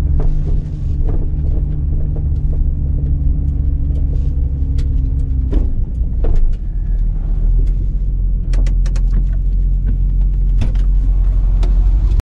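A 700-horsepower 80-series Toyota Supra on a shakedown run, its engine a loud, close, continuous rumbling drone that holds steady before a brief rise and shift midway, then settles back.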